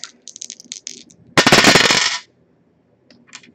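A handful of dice is grabbed and rolled, giving a loud, close burst of rattling clatter lasting under a second, framed by small clicks and shuffling before and after.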